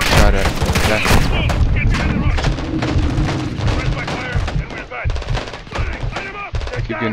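Dense machine-gun fire and scattered gunshots crackle continuously in a Call of Duty: Modern Warfare II campaign battle, loud and close, with rapid bursts overlapping and a voice talking underneath.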